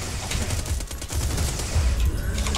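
A small turret in a video game fires a steady, dense stream of rapid shots, moderately loud and unbroken across the moment, with no talking over it.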